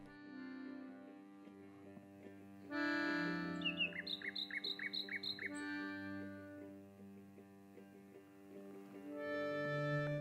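A nightingale sings a varied song of sustained whistles, then a rapid run of repeated sharp chirps, then more whistled phrases, fairly faint and with no talk.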